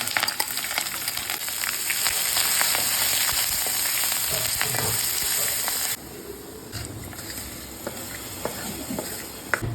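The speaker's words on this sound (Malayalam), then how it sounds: "പിന്നെ കടുക്, മുളക്, കറിവേപ്പില, ഇഞ്ചി, പച്ചമുളക് ഒക്കെ കൂടെ വറുത്തിടണം." Mustard seeds, chili, curry leaves, chopped ginger and green chili fry in hot coconut oil for puli inji, a loud, crackling sizzle that drops noticeably quieter about two-thirds through and keeps hissing softly, without speech.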